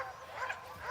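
Small sled dog yipping and whimpering in a snowy Haut-Jura musher's yard, short high-pitched yelps running steadily through the moment at close range, with faint human talk in the background.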